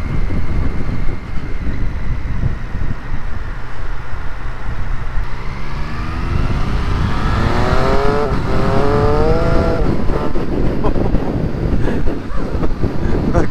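A Triumph Street Triple R motorcycle accelerates hard, with its engine note climbing through rapid quick-shifted gear changes. The rising pulls sit under heavy wind buffeting, loud and close.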